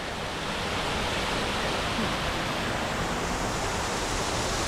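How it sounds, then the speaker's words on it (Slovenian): An eight-metre waterfall at Gjipe, Albania, pours in a steady, close rushing roar of falling water that holds an even level throughout, with no voices. "Tukaj se je pa pojavil tudi en lep slap. Evo, 8 metrov visok."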